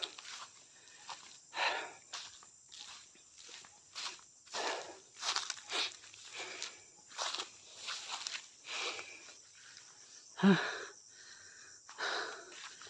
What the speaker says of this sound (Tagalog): Hinihingal ako mga idol.